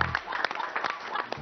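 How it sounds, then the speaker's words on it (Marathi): An audience claps for the performers at a live gathering, a burst of dense, close hand claps that fades and swells over a short stretch. "जरा टाळ्या वाजवा त्यांच्यासाठी सगळ्यांसाठी."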